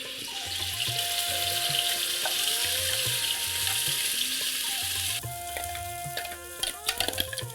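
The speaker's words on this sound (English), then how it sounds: "Now fry this masala till it darkens a bit in color." Masala frying in hot ghee, a continuous loud sizzle with stirring scrapes, then the hiss drops and a few clinks and knocks follow near the end.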